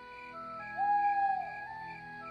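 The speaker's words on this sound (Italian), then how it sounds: "Ed ecco il verso del gufo." Cartoon owl hoot in an Italian children's animated bedtime scene: a single smooth, sustained tonal hoot rising over a steady background hum, fairly loud and alone, lasting about half a second.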